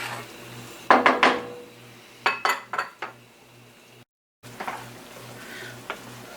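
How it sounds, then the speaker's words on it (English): A spoon clinks and scrapes against a pan while a creamy herb shrimp pasta sauce is stirred, giving short bursts of metallic taps over a faint low simmer. "Give it a good stir so it can thicken."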